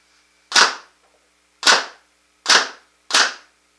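A 2011 PMR Proto Matrix Rail paintball marker fires four sharp, close pops spaced about a second apart, each with a short decaying crack and quiet between shots.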